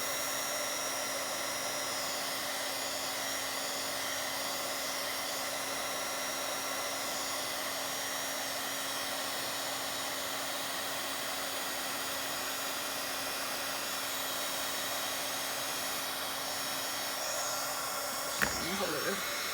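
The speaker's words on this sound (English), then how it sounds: "My heating tool's gotta heat up." Electric crafting heat tool running for a journal cover project, a steady blowing whir with a constant hum, close and unchanging, ending with a brief click.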